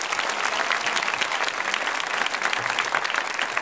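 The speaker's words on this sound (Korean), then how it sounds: "박수로 축하합시다." A church congregation breaks into loud, continuous applause to celebrate an infant baptism, a thick, close wall of clapping hands that holds without pause.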